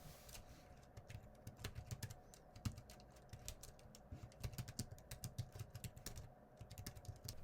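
Rapid keystrokes on a Doohoeek mini Bluetooth keyboard, an irregular run of soft, quiet clicks with no voices.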